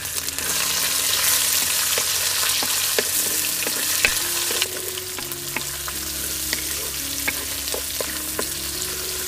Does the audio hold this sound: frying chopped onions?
yes